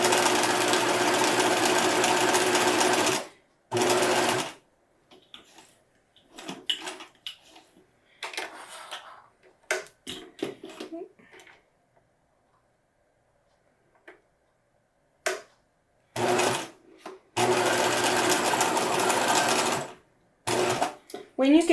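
A sewing machine stitches the seam of a cross stitch pillow in loud, fast bursts of whirring, pausing between runs while fabric is handled and turned, with occasional light clicks in the quieter gaps.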